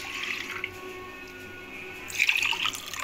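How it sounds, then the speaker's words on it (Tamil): A faint, brief splash of half a cup of water pouring into a pot of moong dal sago payasam, rising suddenly near the end over a quiet background. "இந்த கப்பு அளவுக்கு 1/2 கப்பு தண்ணி சேர்த்துருக்கேன்."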